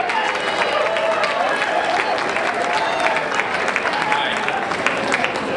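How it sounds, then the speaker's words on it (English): Sustained applause from a crowd at a Michigan campaign-style event, dense and steady throughout, with a few voices mixed into the clapping. "Let's give it a round of applause."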